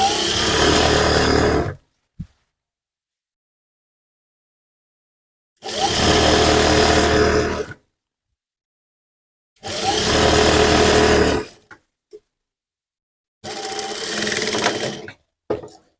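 A sewing machine stitches a doubled fabric strip cut from an old sari for a center-cut kurti, running in four loud, close bursts of rapid whirring separated by silences.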